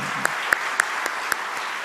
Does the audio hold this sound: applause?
yes